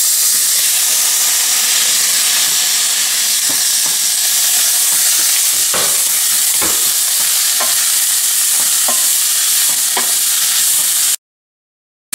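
Chopped tomatoes, green chillies and coriander sizzle steadily in a hot pan of roasted rasam powder. A loud, continuous frying hiss runs throughout, broken by occasional stirring clinks, with no talking.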